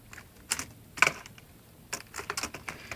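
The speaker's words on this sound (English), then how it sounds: "This is me removing the keyboard now." Plastic clicks and snaps from an HP DV2000 laptop keyboard being pried off its chassis after the underside screws are removed, a few sharp isolated taps spread over a few seconds, close and fairly quiet, no voices.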